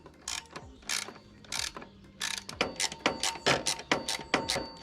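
A ratchet clicks in quick repeated bursts while clamps are tightened during fitting of a Doppler ER1 exhaust, the strokes coming faster and more regularly toward the end, close and fairly quiet.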